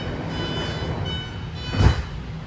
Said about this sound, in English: There goes the 9-car yellow line, San Francisco, Pittsburgh, Bay Point, bound BART train